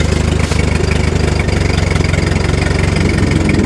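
Tractor engine running with a brush mower attached, a steady loud low rumble with a regular idling chug throughout, close by and with no talk over it.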